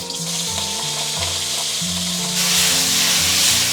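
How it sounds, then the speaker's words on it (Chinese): Crabs sear in oil in a hot iron wok over medium-high heat, a loud continuous sizzle and crackle that grows fuller partway through, joined by a rhythmic electronic music bed, with no talking. "铁锅烧热过后，我们倒入食用油，然后下入螃蟹，保持中大火煎"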